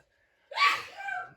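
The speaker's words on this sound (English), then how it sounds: "My mother was sneezing." A woman sneezes once at close range, a sharp burst of breath at a family Thanksgiving gathering, tailing off into a brief breathy trail.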